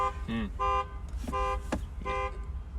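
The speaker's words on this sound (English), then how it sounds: "Dude just set off his alarm." A car alarm blares nearby in repeating bursts of harsh, electronic warbling and chirping tones that cycle through several patterns, with no speech over it.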